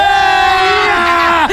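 Friends shriek in a long, loud, sustained scream while bathing in very cold water at a farmhouse outing. The cry holds steady and close, then dips and breaks off near the end.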